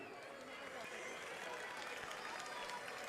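A crowd at the Sardinia carnival parade in Fonni applauds the passing Surzu carnival association, a faint, distant, continuous patter of clapping mixed with outdoor crowd noise.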